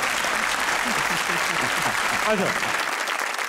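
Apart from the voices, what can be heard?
studio audience applause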